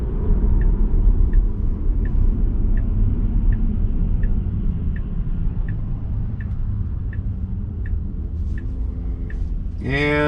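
A Tesla accelerating on the road, a steady low rumble of road and motor noise with faint regular ticking, ending in a sharp tonal burst.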